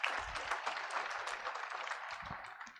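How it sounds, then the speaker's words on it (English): A conference audience at a labor-based practitioners event applauds, a short burst of clapping that is fairly faint and distant, with no talk over it. "Let's give them a round of applause, please."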